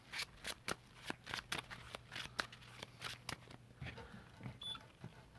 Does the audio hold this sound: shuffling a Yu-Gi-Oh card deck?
yes